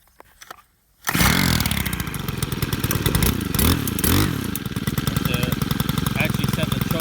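A Stihl FS91R string trimmer is pull-started after a moment of quiet, then its small two-stroke engine roars up and keeps running loud and close with a buzzy, uneven drone.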